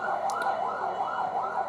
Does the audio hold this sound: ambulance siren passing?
yes